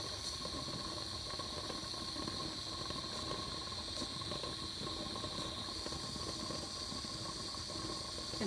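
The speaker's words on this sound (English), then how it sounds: "when you see water bubbles and steam coming out from underneath the jiggler, that's perfectly normal" Continuous steady steam hissing from beneath the jiggler on a pressure canner over a high flame, a constant airy hiss with faint bubbling underneath and no speech.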